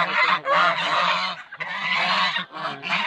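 Chickens on a poultry farm in Mondulkiri Province, Cambodia, call loudly and close by in harsh, honking squawks that run almost continuously in overlapping bursts.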